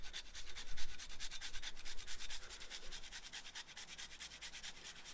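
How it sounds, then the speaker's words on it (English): A whole nutmeg is rubbed against a grater outdoors, giving a steady run of rapid scraping strokes, evenly paced and close, with no voices. "So you just get a piece of nutmeg and you can grate it in there."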